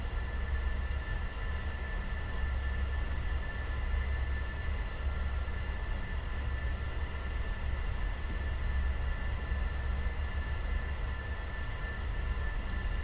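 An Avro Vulcan jet taxiing to park in Microsoft Flight Simulator gives a steady, loud, unbroken engine roar and whine with no voices.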